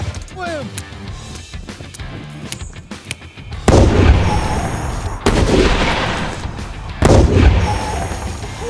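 Several loud explosive booms launching a barrel into the air, each followed by a rushing roar and debris noise, heard close by after a stretch of quieter background sounds.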